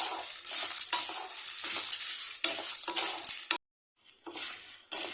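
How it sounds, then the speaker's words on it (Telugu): Dried red chillies fry in a pan with a steady close sizzle and scraping stir strokes, broken by a brief silent gap before the frying resumes. "ఇందులో ఎండుమిర్చి వేసుకోవాలి. ఒక 2 మినిట్స్ ఫ్రై చేసుకోవాలి."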